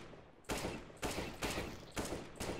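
Gun sprays fired in the video game Valorant during aim practice: four dense bursts of rapid automatic fire, each starting sharply and running about half a second, loud and continuous with no talk.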